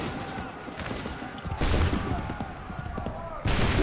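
Musket volley in Assassin's Creed III, set during the Lexington and Concord battles: a sustained crackle of massed gunfire with dense bursts and sharp onsets near 1.6 and 3.5 seconds, loud and continuous amid battlefield noise.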